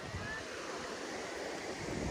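Ocean waves wash up on the shore in a steady, broadband roar of surf, with a windy rush across the whole stretch and no distinct breaks.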